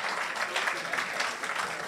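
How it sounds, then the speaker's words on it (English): A lecture audience applauds the panel at a Constitution Day event on Ghana's constitution: dense, steady clapping of a crowd, moderately loud and continuous for the whole short stretch. "I think we can give the panel a round of applause."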